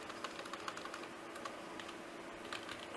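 Rapid keystrokes on a computer keyboard as a note is typed, an irregular stream of light clicks at steady moderate loudness, close by with no talking.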